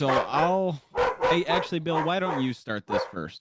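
Dogs bark and yip indoors at moderate distance in short bursts, partly overlapping someone talking casually at a table.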